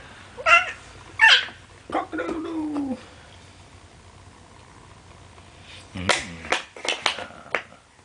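A voice imitates a dog, giving two short bark-like woofs, followed by a drawn-out vocal sound and then a few brief, sharper sounds.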